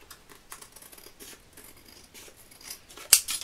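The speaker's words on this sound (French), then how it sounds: "Et on va venir découper ce qui dépasse." Scissors snipping paper while trimming a handmade birthday card, a few faint soft cuts spread across the stretch and one sharper, closer snip near the end.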